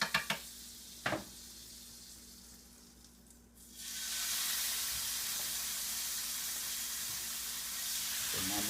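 Thin-cut Delmonico steaks laid onto a hot griddle for steak sandwiches: a few clanks, then a loud, steady hissing sizzle that rises and holds to the end.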